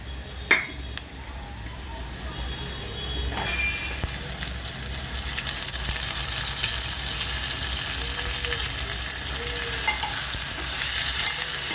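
Onion frying with spices in a pan for an aloo chicken pickle gives a steady broadband sizzle that starts suddenly after a few quiet seconds with faint clinks, then keeps going, fairly loud and even, with brief stirring noises.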